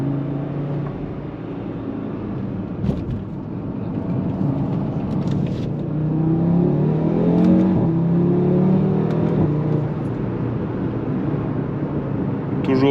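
Audi RS3 8V2 five-cylinder with a Daza engine tune and RS exhaust, heard from inside while driving: a steady low engine drone that swells as it pulls harder midway, with road noise throughout.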